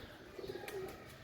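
Faint, soft pigeon cooing, a couple of low burbling calls heard from a distance with light background noise.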